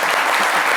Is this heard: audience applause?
yes